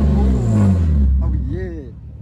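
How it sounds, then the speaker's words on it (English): A V6 car engine revs loudly and close by, a deep roaring swell that rises and falls over a couple of seconds while voices talk over it. "Hey, rev it, bro."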